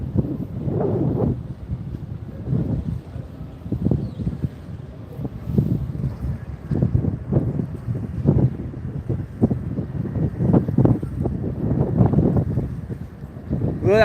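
Strong wind buffets the microphone on a Boston waterfront beside choppy water, a steady rumbling roar with repeated gusty thumps throughout and no clear talk.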